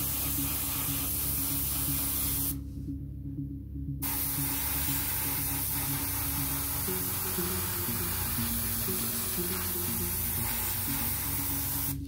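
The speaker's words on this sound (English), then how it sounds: "So before I put all of these together, I'm just going to prime them up, and I'm going to be using something a little bit different." An airbrush sprays Vallejo Surface Primer German Red Brown onto plastic Tiger II tank model parts, a close, steady hiss broken by one short pause before resuming.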